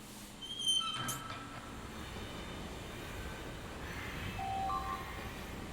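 Train ambience in the video game Lucah: a low, steady rumble of the moving carriage, with a few soft tonal chimes near the start and a short beep later, and no voices.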